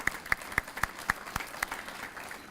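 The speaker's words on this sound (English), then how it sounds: "let's just give them a round of applause anyway" A short round of applause for the chamber staff at a legislative summit, scattered distinct claps from a modest audience, fairly sparse and brief, with no talk over it.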